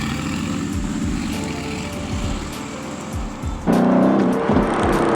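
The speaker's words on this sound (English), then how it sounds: "as you can hear, you got that 500 horsepower AMG motor" A 2020 Aston Martin Vantage with a 500 hp AMG engine, heard close as it revs and pulls with a rising, throbbing exhaust note that swells louder toward the end.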